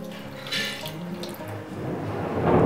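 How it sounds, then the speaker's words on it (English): Mushroom soaking water is poured away into a kitchen sink, a running, splashing trickle that swells louder toward the end, heard without any talk. "I'm going to waste the mushroom water here"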